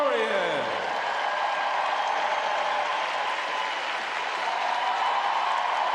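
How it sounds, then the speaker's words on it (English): A stadium crowd at the ISU World Championships in Boston, on its feet applauding after an ice dance free dance, a dense steady roar of clapping filling the whole stretch. "people on their feet, applauding another spellbinding performance from Piper Gillies and Paul Poirier."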